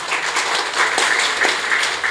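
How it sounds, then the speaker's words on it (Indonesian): Audience applause at the inauguration ceremony of the Pentahelix Incubator in Bekasi City, a steady wash of many hands clapping together, sustained and moderately loud throughout with no clear voices above it. "Wah, tepuk tangan."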